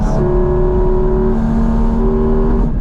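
Porsche GT4 RS engine droning loud and close from inside the car, a steady high-revving tone that shifts pitch briefly near the end, with no one talking.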